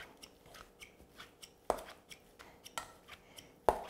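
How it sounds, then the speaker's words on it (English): Cooked chicken is chopped with salad choppers in a run of crisp, rhythmic cutting clicks. A few sharper, louder thuds punctuate the steady chopping, and nobody speaks. "The salad choppers makes chopping or shredding chicken so easy."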